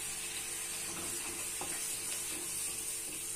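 Tomatoes roasting with spices and amchur powder in a pan over low heat, a soft steady sizzle with faint scraping of a stirring spoon, quiet and continuous.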